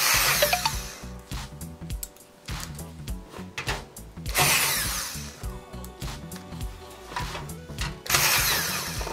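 Screws being driven to mount a power supply in a Ryzen 2700X PC build: short whirring bursts with pauses between them, heard close over steady background music.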